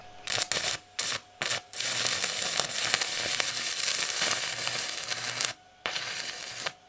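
A stick welding arc on steel with a 1/8 inch rod at about 110 amps from an ArcCaptain MIG 145 Pro: a few short crackling bursts, then a sustained loud close sizzling buzz that stops abruptly and briefly resumes.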